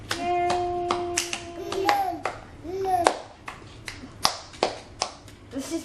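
Hand claps ring out irregularly, roughly a dozen sharp close claps, with a child's babbling and an adult voice talking between and over them.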